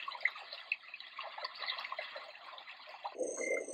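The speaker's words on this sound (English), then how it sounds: "Stream." Flowing-stream setting on a Pure Enrichment Wave sound machine: a steady trickling, dripping wash of water that runs evenly and alone, then abruptly switches at the end to a different tone.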